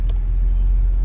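A 1993 Chevrolet Omega CD with a 3.0 six-cylinder engine and automatic gearbox runs at idle, a steady deep low rumble held close and alone.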